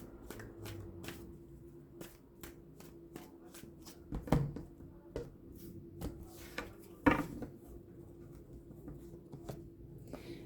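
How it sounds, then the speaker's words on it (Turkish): Tarot cards being shuffled by hand for a bonus draw, a steady run of soft riffling slaps and flicks with two louder snaps partway through, close and quiet with no talking. "bir bonus kart çekmek istiyorum."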